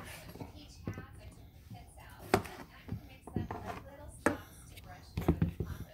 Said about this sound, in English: finish cutting up our potatoes here.